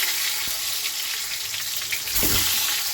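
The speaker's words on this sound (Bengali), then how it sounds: "ডিমগুলো এবার ভেজে নিচ্ছি।" Boiled eggs, lightly slit around the sides, frying in hot oil make a continuous close sizzle, with a sharper surge of spitting near the end and no one speaking.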